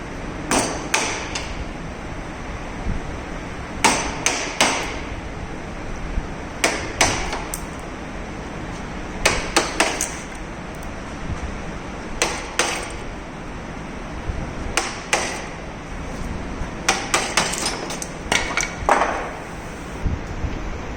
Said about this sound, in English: with the help of this chisel and wooden mallet remove the cutted portion